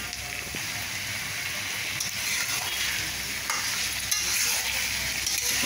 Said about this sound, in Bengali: সরিষার তেলে খুব ভালো করে মাটনটাকে একটু ভেজে নিচ্ছি